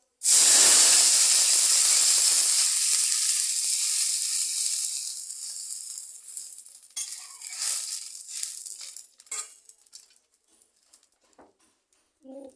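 Water poured into a hot pan sets off a loud burst of hissing sizzle that slowly fades over several seconds into scattered, quieter crackles and pops.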